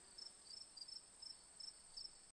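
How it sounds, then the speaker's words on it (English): Cricket chirps in steady repeated bursts, a high-pitched trill pulsing about every third of a second over a faint quiet background, with no voices. "Crickets"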